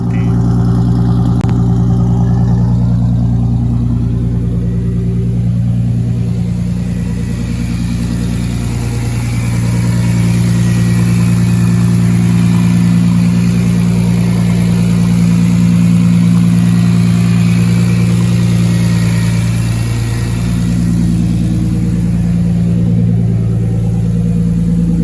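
A turbocharged BMW E46 engine runs at a steady idle for the whole stretch, a constant low rumble with a faint whine on top, close and loud with no talking.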